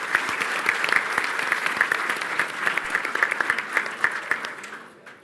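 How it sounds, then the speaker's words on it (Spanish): Steady applause from a conference audience greeting agricultural technology panelists, dense overlapping clapping that holds evenly for several seconds, then thins out and fades at the end. "Un fuerte aplauso para ellos."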